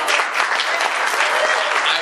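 An audience at a Cleveland Hungarian event bursts into dense, loud applause with some cheering, a continuous close clatter of clapping hands for the whole stretch.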